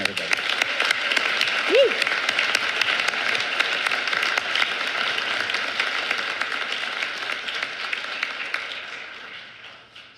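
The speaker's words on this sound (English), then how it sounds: "Let's really start with a big round of applause for ourselves and everybody." Audience applause fills a graduation ceremony hall at St Mary's University, a dense sustained wash of clapping with a brief cheer early on, fading out toward the end.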